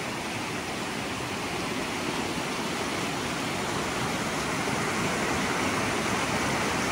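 The Suiattle River rushes beside Sulphur Creek Campground near Darrington, Washington, a steady broadband wash of flowing water that stays loud and unchanging throughout, with no voices.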